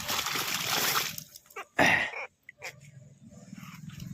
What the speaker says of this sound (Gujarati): મિત્રો પાણી આવી ગયું છે